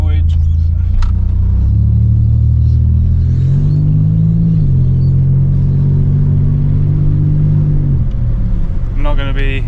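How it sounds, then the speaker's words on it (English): A turbocharged Ecotec engine in a ute starts up and idles steadily, with a loud low-pitched rumble and a brief rise in revs in the middle. A higher-pitched whir comes in at the end. "I'm starting it up, getting it ready to run the trans through some gears and get some oil in it."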